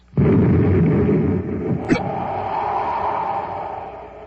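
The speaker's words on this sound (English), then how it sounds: "Someone's firing at us." Weapons fire at a spaceship in an old-time radio drama: a sudden loud burst opens into a sustained roaring rumble, with a sharp crack near the middle as the roar continues steadily to the end.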